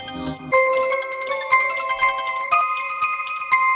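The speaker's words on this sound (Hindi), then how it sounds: "मैम आपका फोन।" A bright electronic phone ringtone plays a repeating melodic phrase, loud and close, with no voices.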